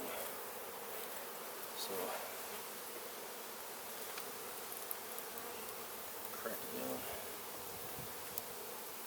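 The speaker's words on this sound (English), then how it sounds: "This is where a lot of the bees are in this medium." Honey bees drone steadily in an open Rose Piedmont beehive in October, a dense close buzzing that holds for the whole stretch, with a few brief, quiet words spoken over it.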